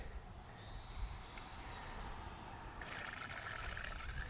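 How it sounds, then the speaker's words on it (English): Water runs through the plumbing of a Coachman Leprechaun 260DS RV during de-winterizing as a faint, steady trickle and rush. A brighter hiss joins partway through as flow picks up. "I'm gonna run the water"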